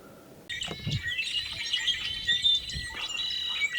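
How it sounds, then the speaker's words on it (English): A male red-winged blackbird sings a bright, trilling call, repeated over a steady chorus of chirping birds and insects in early March countryside. "male red-winged blackbird"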